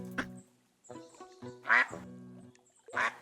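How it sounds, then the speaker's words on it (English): Ducks in the Tiny Glade video game give several short, bright quacks in separate bursts, close and clear with brief quiet gaps between them and no talking. "Come pet the ducks."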